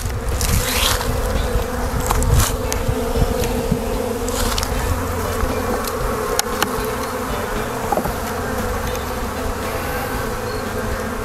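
A dense, steady buzzing of many honeybees swarming close by as they are shaken off honey frames, continuous throughout with faint rustling and small knocks underneath.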